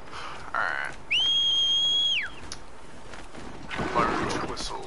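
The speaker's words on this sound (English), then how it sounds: "Large whistle" A loud whistle in Horizon Zero Dawn, a single sustained two-tone blast of about a second that ends with a falling slide, set between game effects and bursts of noise.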